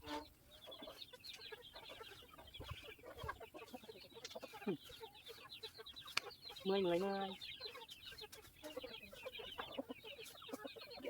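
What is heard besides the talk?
chickens clucking on a farm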